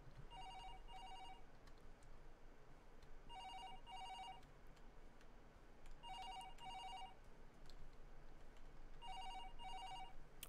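A telephone in the horror video game Paranormal HK rings in four evenly spaced double bursts of electronic trilling, moderately loud over a steady hiss of ambient noise.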